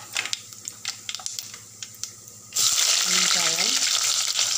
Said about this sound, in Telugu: ఇలా గిన్నె పెట్టి 3 స్పూన్ల ఆయిల్ వేసి జీలకర్ర,